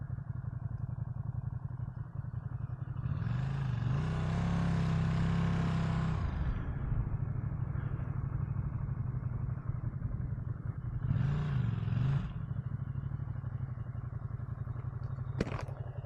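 A Ducati Streetfighter V2 motorcycle engine runs steadily while riding, with a continuous low drone and two louder swells of revving, no talk.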